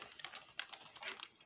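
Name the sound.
typing on a cheap $3 computer keyboard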